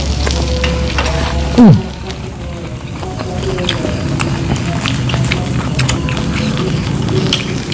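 Squid in black ink and spicy octopus sizzling on a grill, a steady loud frying hiss with small pops throughout, alone without talk.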